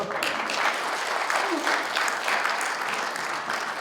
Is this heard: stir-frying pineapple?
no